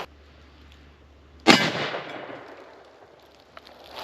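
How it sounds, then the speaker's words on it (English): Rifle bullet striking an AR500 steel plate: a single sharp, loud impact crack with a ringing, reverberant decay, heard alone outdoors without talk. "So we're just going to shoot the plate so that we can see what happens."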